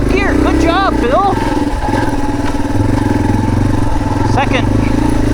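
A motorcycle engine pulls away on a trail ride, steady and close with a continuous mid-range drone, while people talk over it throughout.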